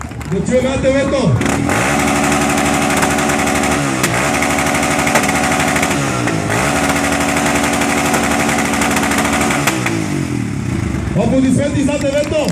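An ATV engine is revved hard in a loudest-machine contest, snarling up and down in several surging bursts with sharp rises and drops, loud and close, with a crowd faintly behind it.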